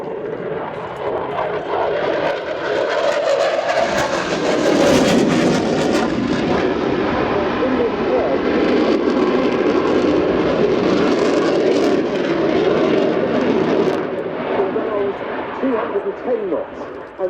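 Finnish F/A-18C Hornet jet flying a display at an airshow, a loud sustained roar that swells and holds as the aircraft passes, with talk over it.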